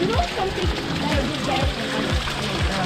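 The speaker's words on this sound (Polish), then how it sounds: "Tutaj mamy fontannę wężową." Water splashes steadily in a serpent fountain at Colomares Castle in Andalusia, a continuous outdoor splatter heard under people talking nearby.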